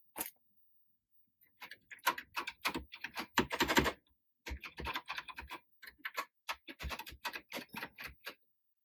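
Keys being pressed on a Heathkit H9 terminal keyboard during repair testing, loud close clicky clusters of keystrokes in irregular bursts with brief pauses, no talk.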